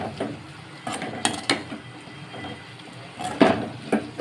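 Utensils clatter against a pan as a moringa leaf stir-fry is mixed, with scattered scraping knocks and a few sharper clinks, fairly close and without talk.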